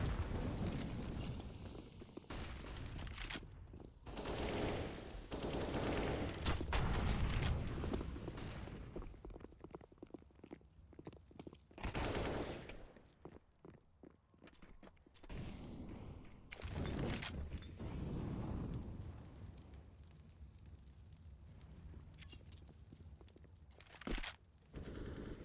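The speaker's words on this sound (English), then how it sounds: "Full gun round. AK on Zyw0o now." Rapid AK rifle bursts in a full-buy round of a competitive Counter-Strike-style shooter match, sharp repeated cracks in clusters with gaps between, loud and close, mixed with game ambience.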